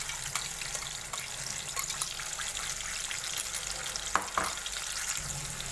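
Chicken masala paste sizzles and fries in oil in a kadhai, a steady close crackle with occasional stirring scrapes and a couple of sharper clinks near the end, no speech.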